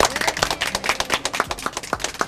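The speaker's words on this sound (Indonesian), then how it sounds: "Saya minta tepuk tangannya dong, Bu." Women of a PKK community group clapping together at a neighbourhood gathering in Surabaya, a loose burst of hand claps, fairly close and moderately loud, with no talk over it.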